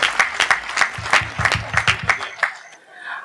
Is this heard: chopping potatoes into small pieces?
no